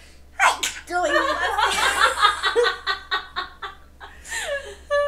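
A single sharp sneeze bursts out near the start, followed by breathy chuckling and giggling that trails off.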